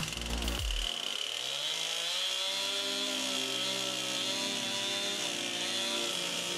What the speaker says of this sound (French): Et la chaîne de la tronçonneuse mériterait bien un petit affûtage.